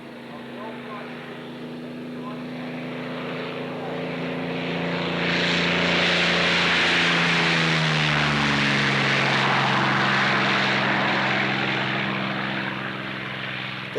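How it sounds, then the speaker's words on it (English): A Curtiss P-40K Kittyhawk warbird flying at the Warbirds Over Wanaka 1992 airshow in New Zealand, a loud droning propeller engine whose pitch bends as it sweeps past, with someone talking over it. "The Curtiss P40K that Mark's flying is certainly as good as any that was produced during the war."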